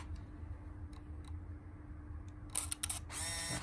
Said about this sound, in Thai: อันนี้นะครับเป็นการเปิดปิดชัตเตอร์เปิดปิดหน้าเลนนะครับผม